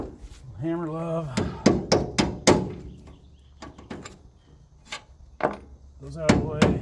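Hammer blows on Gehl flail chopper parts in a workshop, a series of sharp metallic strikes in uneven bursts, close and loud, with someone speaking between them.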